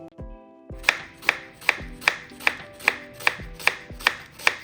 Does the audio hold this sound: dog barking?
no